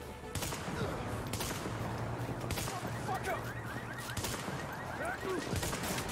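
Rapid gunfire crackles in the video game Where Doctors Dare, with dense bursts of shots and impacts layered over game ambience and scattered bird-like chirps, at moderate volume.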